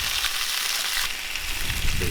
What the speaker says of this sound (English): Hear that steak sizzling.